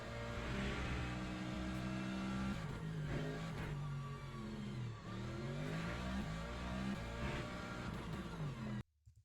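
An AMG race car in the Le Mans Ultimate racing game at Algarve brakes and then accelerates, its engine note dropping and rising through gear changes, loud and steady, cutting off abruptly at the end.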